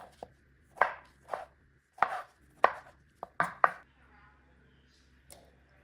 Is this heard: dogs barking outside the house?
no